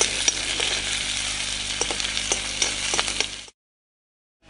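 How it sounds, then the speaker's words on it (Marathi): Garlic, chili and onion sizzle and fry in hot oil in a pan, a steady bright crackle with occasional stirring clicks, close and loud for about three and a half seconds before cutting to silence. "ते आता परतून"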